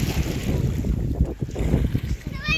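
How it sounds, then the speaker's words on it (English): Wind blowing across Lake Tenkiller, a loud, gusting rumble buffeting the microphone, with lapping water beneath and a voice briefly speaking through the noise. "it's cold when that wind blows"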